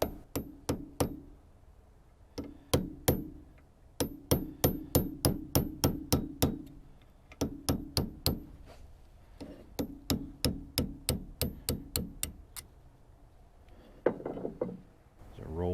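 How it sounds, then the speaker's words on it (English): Sharp metallic hammer blows on a punch driving a roll pin out of a Bobcat fuel stop lever assembly clamped in a vise, many rapid strikes in close, loud bursts separated by short pauses. "We're just going to use a hammer and a punch to punch out that roll pin."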